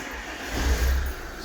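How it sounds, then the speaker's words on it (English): An Alfa Romeo Giulietta turbo diesel engine with a turbo boost fault turns over and catches, a short low rumble swelling briefly before settling. "Start the engine up"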